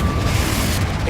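Confringo fire-spell explosion in the game Hogwarts Legacy, a brief loud rumbling burst of fiery noise close by, steady in level and without distinct separate hits.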